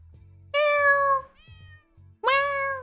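A human voice mimics a cat, giving two loud, close meows separated by a softer, wavering mew, each drawn out and tonal over a quiet, low background.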